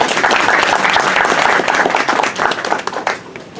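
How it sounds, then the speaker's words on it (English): An audience at a lawyers' group talk on freedom fighters breaks into loud, dense applause, many hands clapping together close by, tapering slightly toward the end. "Huge claps to Sunita ji."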